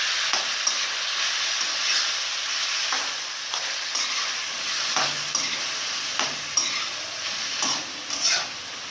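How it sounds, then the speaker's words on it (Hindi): Spices stirred into chicken karahi keema, steady frying sizzle and hiss with a spatula scraping and tapping the karahi at intervals, close and fairly loud, no talking. "ये मसाले इसके अंदर ऐड सारे करेंगे और इसे अच्छी तरह मिक्स करेंगे"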